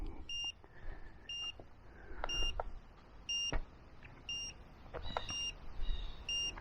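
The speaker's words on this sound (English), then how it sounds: "Sorry for the beeping, folks, but it is a low battery." Short electronic low-battery warning beeps from a Xiaomi Fimi A3 drone repeat in a steady rhythm, roughly one every second, over faint background noise and occasional knocks.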